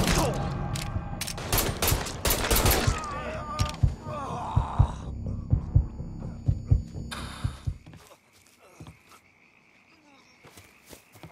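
Gunfire in the Mafia 3 video game, sharp repeated shots and impacts in dense bursts over a busy mix, then sparser scattered pops after the action thins out.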